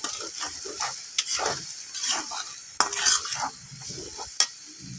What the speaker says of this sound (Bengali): মনে হচ্ছে যেমন চিংড়ি মাছ ভুনা করছি